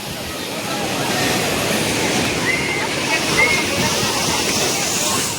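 Sea water washes in over the sand at Old Digha beach, a steady close rush and hiss of surf, with a voice speaking over it.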